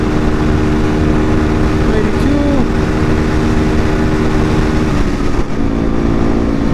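A 2016 Yamaha WR250R motorcycle runs wide open in sixth gear at top speed, a loud sustained engine drone buried in heavy wind roar from the rider's position.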